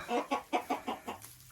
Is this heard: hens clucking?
yes